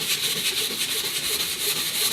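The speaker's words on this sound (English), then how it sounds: "your nylon brush, this is a very soft brush, and you can actually go both directions with this brush and give it a good final polishing" Soft nylon brush swept back and forth over a waxed ski for a final polish, making a steady, close, pulsing brushing hiss with no voices.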